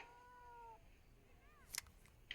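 A domestic cat meows softly twice, a drawn-out tonal call followed by a shorter rising one, faint against quiet room noise, with a couple of brief clicks near the end and no talking.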